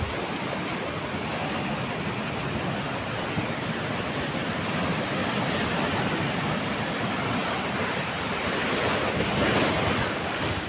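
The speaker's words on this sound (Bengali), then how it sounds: "আমি ধীরে ধীরে পানির শব্দ আপনাদের আমি দেখাবো এবং বুঝাবো যে পানির কি গর্জন।" Sea waves roar at Kuakata beach in a constant, loud wash of surf, with heavy wind buffeting the microphone throughout.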